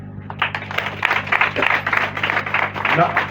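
A small audience claps unevenly at a school building handover ceremony in honour of Emmanuel Moussa. Scattered, fairly close hand claps pulse in loose bursts over a low steady hum.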